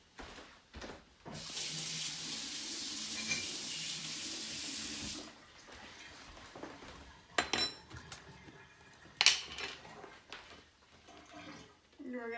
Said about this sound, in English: Rinse my spoon